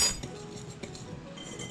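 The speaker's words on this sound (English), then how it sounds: "You'll want to mix all the dry ingredients up." A utensil clinks and scrapes against a bowl while dry banana-bread ingredients such as flour and salt are stirred together, a few light taps close by.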